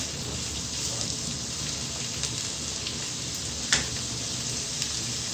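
Onions frying in oil in a pan give a steady, even sizzle throughout, with one brief sharper crackle near the middle and no talking.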